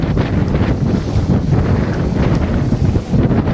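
Strong Kona wind buffets a boat riding at anchor in a storm off Hawaii, a loud, steady roar of gusts blasting the microphone with water sounds mixed underneath, no voices.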